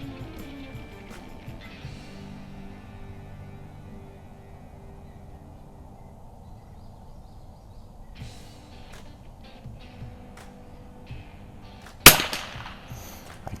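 A Weihrauch HW660m bolt-action .22LR target rifle fires one sharp, loud crack near the end at an outdoor range, preceded by faint clicks and quiet background.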